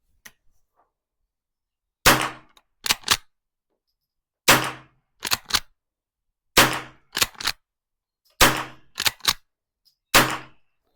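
A Winchester 1906 .22 LR rifle fires five rounds outdoors, sharp cracks in irregular pairs and triplets spaced over several seconds, each loud and close with quiet gaps between.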